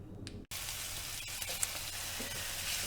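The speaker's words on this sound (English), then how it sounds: "I'm going to start frying the onion in" Onion sizzles in olive oil in a pan for a pork and red pepper goulash, a soft steady crackling hiss that starts after a brief pause, close but quiet.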